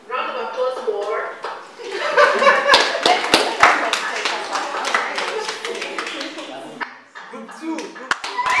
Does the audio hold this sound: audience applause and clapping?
yes